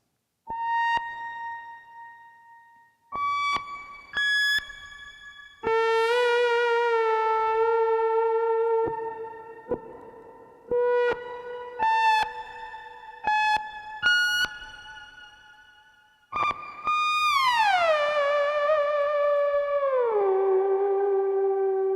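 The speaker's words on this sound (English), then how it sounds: "Let's hear it with some pitch shifting." Gakken SX-150 synthesizer notes with a pitch-shifting shimmer effect ring out with shimmering upper layers, their pitch sliding and bending in long glides over sustained tones.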